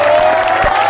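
Audience at a college function in Narasinghapur clapping, a brief loud burst of crowd applause with some cheering over a steady tone.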